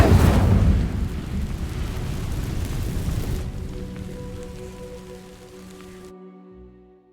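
Incendio fire spell cast in a Hogwarts video game: a loud, roaring whoosh of flame that bursts in at once, then crackles and slowly fades over several seconds into a low humming tail, with no talking.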